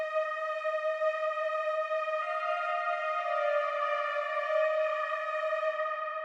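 Synth viola support line from a Serum preset, a sustained bright tone one octave above the violin in a produced track, holding a long steady note with a small step partway, clean and alone.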